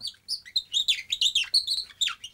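A wooden bird-call whistle imitating a nightingale plays alone, close and fairly loud, in a quick run of bright, warbling chirps and trills with brief gaps between phrases.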